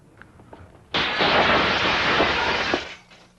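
A loud crash of breaking glass for a studio sound effect bursts in, a dense shattering wash lasting about two seconds before dying away, with faint sounds before it.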